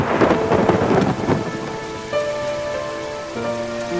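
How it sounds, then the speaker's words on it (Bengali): Rain falls with thunder in an animated story, a loud rumbling crash at first that fades into steady rainfall, with tonal music sounding through it and no talking. "ঠিক তখনই শুরু হলো বৃষ্টি।"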